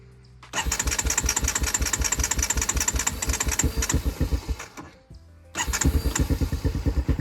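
A dirt bike engine cranks over in a fast, even rhythm, then catches and revs loud and close. It briefly dies down before firing up strongly again.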